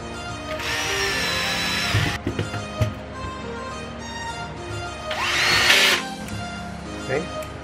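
A small power drill whines in two short bursts boring small 2-3 mm holes in an RC car kit chassis, separated by quiet handling clicks and taps, close by and fairly loud.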